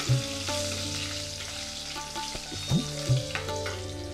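Slit green chilli dropped into hot oil for Iyer-style vathakulambu with orange peel, a close, steady crackling sizzle with a few sharp pops and spatters, no voices.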